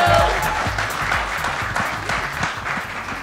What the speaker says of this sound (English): can we get a big round of applause for Team Magnum?